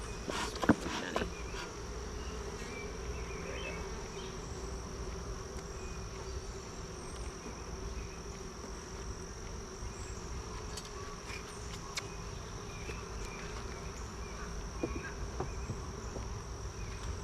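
Honeybees hum steadily around an open hive outdoors, a constant close buzz with a few sharp taps and knocks early on.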